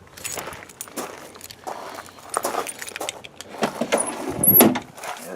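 Keys jangling as they are pulled from a pocket beside a vehicle, close metallic rattles and clinks mixed with footsteps and handling noise, peaking in a brighter jingle near the end.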